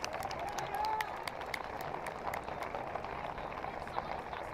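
Boerne Champion fans applaud and cheer at a girls soccer regional quarterfinal, a distant crowd wash of clapping and murmur spread evenly throughout, with no clear peaks.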